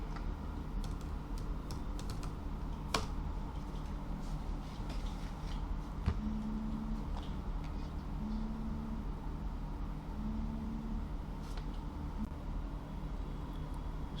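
Soft, fast clicking of typing on a computer keyboard, keystrokes in quick irregular bursts close up over a low steady hum, with no talking.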